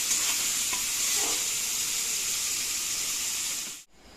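Oil sizzles steadily in a pan as something is fried before the dal goes in, a constant bright hiss with a faint stir partway through, held close and loud until it cuts off abruptly near the end.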